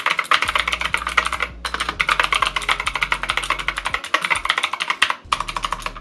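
Fast, steady typing on an XTRIKE ME GK-987 budget mechanical gaming keyboard, dense loud key clacks running almost continuously with two short pauses.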